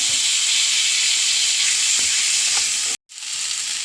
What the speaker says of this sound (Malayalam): അതിലേക്ക് ചെറുതായി അരിഞ്ഞൊരു തക്കാളി ഇടുന്നുണ്ട്.